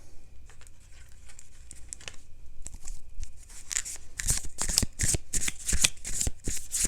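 Tarot cards shuffled during a yes/no reading: soft, scattered riffling and flicks at first, building into a dense run of loud, crisp shuffling bursts in the second half, close by with no talking.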